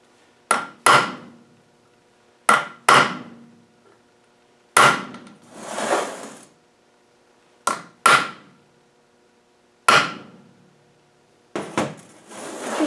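Hammer blows on a metal LT230 transfer gearbox part being marked during a strip-down, falling in close pairs of sharp, loud strikes separated by short pauses, with ringing decay and no talking.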